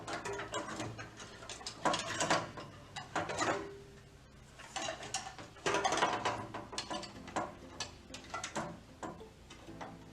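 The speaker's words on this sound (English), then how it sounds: "with screws that are provided, we will add 2 screws to the bottom" Screws are driven into a DECS-450 transition plate, heard as close, clicking ratchet-like mechanical bursts of a driver turning, coming in uneven runs with brief pauses between them and no talk.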